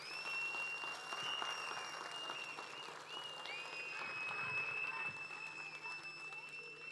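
A crowd at the opening of a children's playhouse in Konak applauds for Nilüfer, a soft, distant wash of clapping with thin sustained tones ringing above it.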